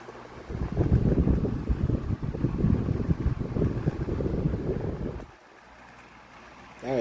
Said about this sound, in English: as you might probably have heard through the amount of airflow this was blowing through the mic.